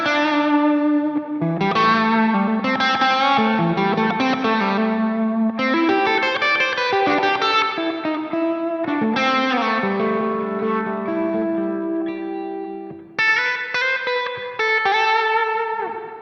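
An electric guitar played through a Line 6 Helix reverb effect rings out in sustained notes and chords. Each note has a long, washy reverb tail, and the guitar plays alone without talk.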